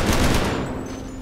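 Rapid gunfire in a Walking Dead zombie mod video game, a loud burst of several quick shots that trails off into a fading echo, with no talk.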